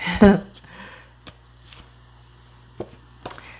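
A brief burst of tarot cards being shuffled near the start, followed by a few soft taps and handling noises in a quiet room.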